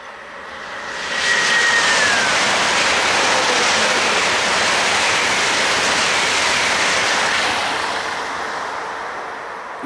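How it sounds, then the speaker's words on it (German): A long ICE 4 high-speed train heads toward Munich, rising into a loud, steady broadband rush that holds for several seconds and then slowly fades. One brief whistling tone sounds early, and no voices are heard. "ICE 4 lang Richtung München."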